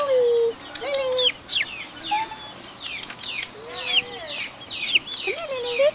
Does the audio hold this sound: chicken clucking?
yes